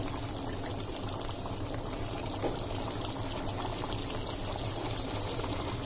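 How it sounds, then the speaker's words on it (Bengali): Luchi, puffy Bengali fried bread, sizzles in hot oil with a loud, continuous crackling bubble held steady throughout at close range. "লুচি ভাজা হচ্ছে।"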